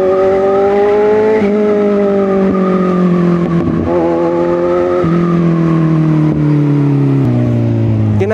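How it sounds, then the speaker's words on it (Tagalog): Loud, noisy motorcycle revving up close, a continuous throaty drone whose pitch rises and dips repeatedly as the throttle is worked, with no voices. "Mahihilig sa mga maiingay na motor."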